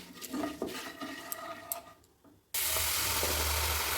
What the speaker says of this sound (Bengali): এখন দিয়ে দিচ্ছি হলুদ, আর দিয়ে দিচ্ছি কাশ্মীরি মরিচ, দিয়ে খুব সুন্দর করে একটু ভেজে নিলাম